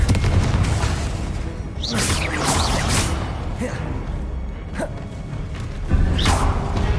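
A Confringo fire-blast spell from the Hogwarts Legacy video game, heard as a few loud booming bursts with whooshes over a dense, continuous game soundscape.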